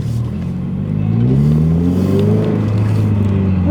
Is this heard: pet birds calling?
no